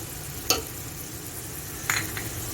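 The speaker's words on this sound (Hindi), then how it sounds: "2 मिनट प्याज के साथ अच्छी तरह फ्राई कर लीजिए" Crushed garlic and ginger fry with onions in a pan for chana pulao, a steady low sizzle with two brief scraping stirs, close and moderately quiet.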